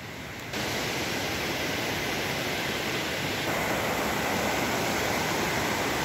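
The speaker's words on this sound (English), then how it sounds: "The sound of the stream just trickling by all evening." A steady, broad rush of a mountain stream, constant and fairly close, with no voices.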